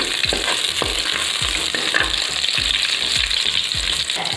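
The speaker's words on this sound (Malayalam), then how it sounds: "ആ മുളകൊന്ന് ഇട്ട് കൊടുക്കാം. ഇട്ട് കൊടുത്തിട്ട് ഒന്ന് ഇളക്കി കൊടുക്കുകയാണ്." Round green chillies crackle in hot coconut oil for a Kerala kurukku kaalan while a spoon scrapes the pan in quick, regular strokes. The sizzle is loud and close, with about two scrapes each second and no talking.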